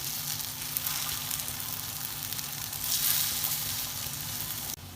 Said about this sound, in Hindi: जी तो टिक्कियाँ अच्छी तरह से फ्राई हो गई हैं, दोनों तरफ से आ गया इसको प्यारा सा कलर।